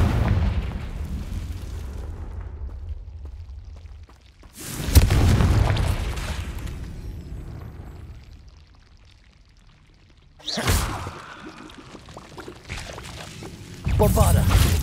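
Confringo fire spell cast in the video game Hogwarts Legacy, bursting in loud booming blasts around 5, 10.5 and 14 seconds over a steady rumbling game background.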